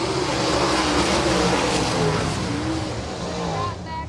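Super sprint race cars at Winston Speedway roar away at the green flag to start a heat, a loud sustained engine howl with rising pitch that fades near the end, under a track announcer's voice.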